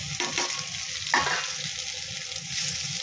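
Chopped onion and whole spices sauté over a lowered flame in a pan for Kolhapuri tambada mutton rassa, giving a steady soft sizzle with a few brief stirring scrapes and no voices.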